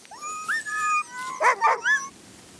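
A young sled dog whimpers and yips in a string of rising, tonal whines, ending with several short, loud yelps close to the listener, with no one talking.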